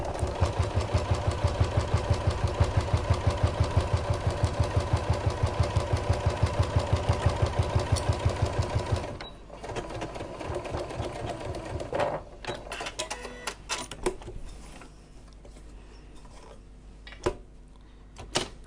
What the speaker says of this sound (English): using a stitch length number 3 on my sewing machine, and I'm reversing my stitches at the start and at the end